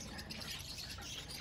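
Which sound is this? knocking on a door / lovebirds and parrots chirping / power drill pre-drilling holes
lovebirds and parrots chirping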